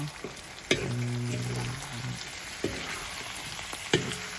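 Onion and spices fry in a large wok for pork curry, a continuous close sizzle broken by three sharp clanks of a spoon stirring against the metal, with no talk.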